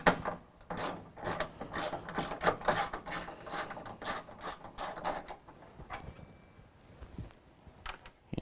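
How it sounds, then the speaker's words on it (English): A ratchet backs out 10mm headlight bolts: rapid bursts of close, crisp clicking in quick runs, then slower, sparser clicks and a few soft knocks toward the end. "we need to remove the last 3 10mm bolts that are holding on our light"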